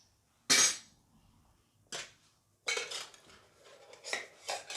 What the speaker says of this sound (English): Scouring pad, cleaning up my pots and pans out.